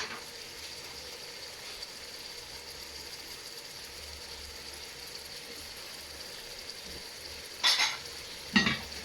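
A seasoned tomato mixture for peanut soup sizzles quietly in a pot as it is stirred, a low steady hiss ending in two brief clanks of the spoon against the pot.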